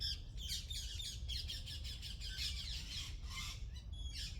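Birds chirping and squawking in a garden on a hot day, a busy overlapping chorus of fairly close calls repeating steadily with no talk over it.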